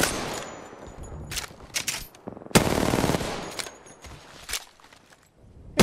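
Gunfire in the video game Apex Legends comes in several sharp bursts of automatic fire, one long loud volley in the middle and shorter cracks around it, with quiet footsteps in between.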